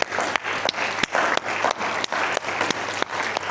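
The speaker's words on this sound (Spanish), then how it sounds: "Vamos a dar un aplauso al que tiene la autoridad" A church congregation claps in a steady rhythmic beat, the sharp regular hand claps standing out over a dense wash of applause.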